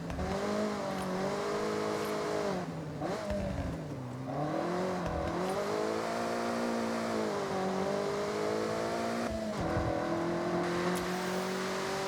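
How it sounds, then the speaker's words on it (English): Forza edition car in Forza Horizon 6, fitted with individual throttle bodies, revs loudly and continuously, its engine note climbing, dipping and surging through gear changes with no talking. "The FORZA edition car does. The FORZA edition car sounds mental."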